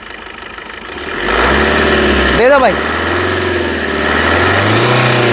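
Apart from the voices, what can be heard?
Maruti Suzuki Ignis car engine revving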